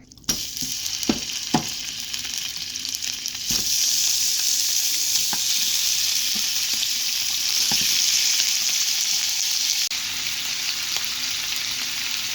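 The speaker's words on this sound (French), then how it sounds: "à présent je vais faire dorer la viande" Pork pieces for hong shao rou browning in a hot pan, a steady loud sizzle that swells after a few seconds, with a few sharp clinks and scrapes of a utensil against the pan early on.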